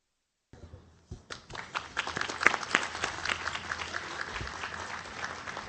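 Applause rises from the audience at an international Islamic economics and finance conference, building from a few scattered claps into sustained, dense clapping that holds steady to the end, with no talking over it.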